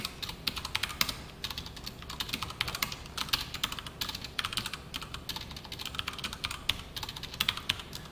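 Rapid, steady clicking of fingers typing Java code on a computer keyboard, fairly quiet and close, with no one talking.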